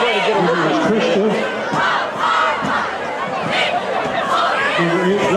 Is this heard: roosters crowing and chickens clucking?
no